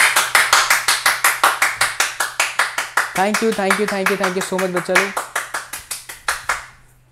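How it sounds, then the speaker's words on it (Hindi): One person claps in a fast, even rhythm, loud and close, during an online NEET physics crash-course class. Someone speaks over the middle stretch, and the claps fade out at the end. "शुक्ला जी जरा एक बार जोरदार तालियां बजा दो"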